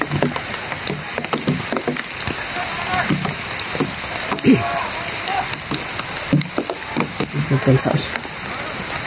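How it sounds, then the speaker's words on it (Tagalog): Rain patters steadily outdoors across the whole stretch, a diffuse hiss with scattered drops and knocks, while people talk and call out over it in Filipino. "Umulan mga tol."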